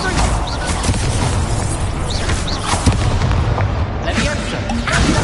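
A fire spell cast in the Hogwarts Legacy video game gives a loud booming burst over a dense layer of game sound effects, with a voice speaking over it.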